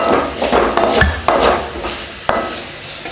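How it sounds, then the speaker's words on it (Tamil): Ginger frying in sesame oil in a pan, a steady close sizzle with a few sharp metallic clinks of a utensil against the pan. "கொஞ்சம் நல்லெண்ணெய் சேர்த்துக்கலாம் கொஞ்சம் சேர்த்தா போதும் அதில் இஞ்சியை போட்டு வறுத்துக்கலாம்"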